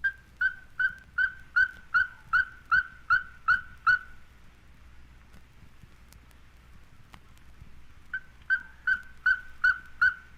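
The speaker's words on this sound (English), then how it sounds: "By day or night, the ferruginous pygmy owl repeats his staccato notes." A ferruginous pygmy owl gives a rapid series of evenly spaced staccato whistled notes, about a dozen in a steady rhythm, then pauses before starting another run, clear and fairly close over quiet background.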